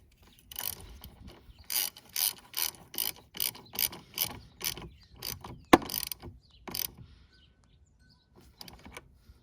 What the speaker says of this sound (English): put this back on to the negative side. and tighten down this bolt.